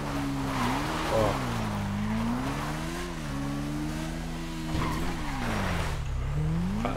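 A motorcycle in GTA 5 revs hard, its engine pitch rising and falling over and over, with tire squeal and skidding close up and a short voice exclamation.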